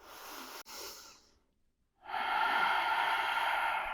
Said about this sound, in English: I'll stay and breathe.